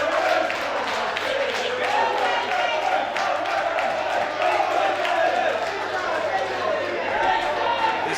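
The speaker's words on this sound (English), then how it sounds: "Listen to this crowd, it's a fantastic atmosphere here at the Box Arena." Spectators at a darts match in a Carlisle arena fill the hall with a continuous roar of chatter, shouts and cheering, a dense, lively wash of crowd noise with voices throughout.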